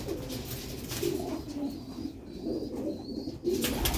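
Pigeons coo softly in a loft or enclosure, a few low throaty calls spread over a few seconds amid faint background rustle.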